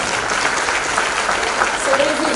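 Applause from an audience at a panel session, a dense, even clatter of clapping hands, with a faint voice surfacing briefly near the end.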